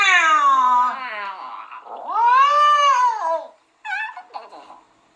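Long drawn-out cat meows and yowls, close and loud, rising and falling in pitch, two sustained wails followed by a couple of shorter cries; the sounds may come from a person imitating a cat.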